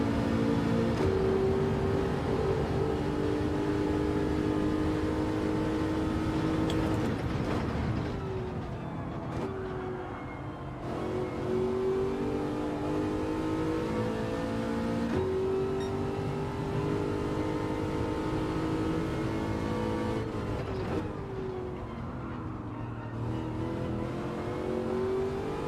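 GR.4 race cars in Gran Turismo 7 roar continuously at close range, the engine note climbing through the gears with sharp drops at each upshift, with a few sustained accelerations across a long stretch of driving.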